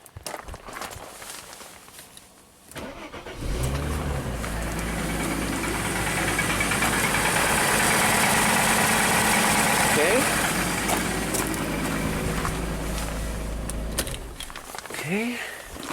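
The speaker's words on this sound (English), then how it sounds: "Let's just crank it and see what happens." A 1995 Mercedes E320 engine cranks briefly and catches, then settles into a loud, steady idle close by, after some quiet shuffling at the start; the idle drops off near the end as someone talks.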